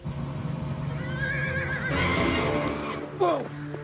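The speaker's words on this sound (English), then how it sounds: "He's on a horse!" Cartoon horse whinnies loudly with a rising-and-falling neigh, preceded by galloping hoofbeats under a busy score, then a second sharp whinny near the end.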